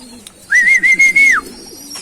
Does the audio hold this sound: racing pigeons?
yes